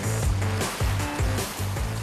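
Sea waves wash in and out over tidal coastal rocks on a remote island off South Jeolla, Korea, where wild seaweed grows; the water surges in close, loud, rhythmic pulses with no voices.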